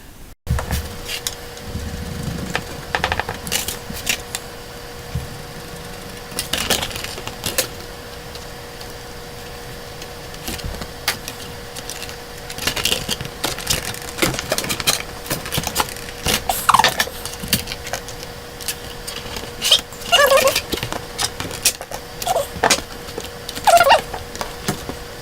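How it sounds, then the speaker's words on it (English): Right-hand shears cut a Kydex thermoplastic sheet for a knife sheath, giving scattered sharp snips and crunches at irregular intervals over a quiet workshop background. "Now I'm going to take some shears and cut it out."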